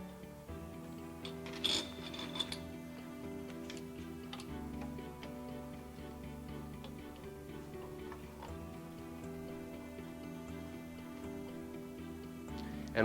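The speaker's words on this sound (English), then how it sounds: "you'll have a wing screw on the back that you tighten up to secure the bongos to the stand" A wing screw on the back of a classroom bongo stand being tightened, producing quiet, close, steady ticking and ratchet-like clicks with a few brighter metallic taps early on, no talk.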